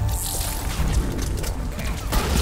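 A smoke bomb goes off in the video game Mass Effect 3, giving a steady, loud, dense hissing roar with dull thumps mixed in that fills the whole moment.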